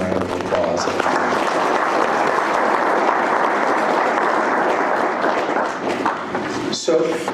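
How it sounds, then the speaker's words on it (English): Audience applause fills a room at an animal welfare talk in Kenya, a steady, dense wash of clapping that swells quickly and holds loud and close, with a voice briefly speaking over it as it fades at the end. "let's give them a round of applause"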